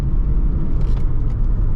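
Chevrolet C4 Corvette engine pulling hard through a smooth second gear shift, a loud steady low rumble close up with no break in the sound.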